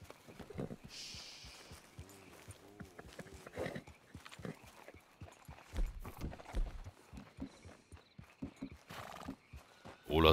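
Horse hooves clip-clop along with a horse neighing and snorting in Red Dead Redemption 2 Online, mixed with game effects and occasional thumps, fairly close and busy.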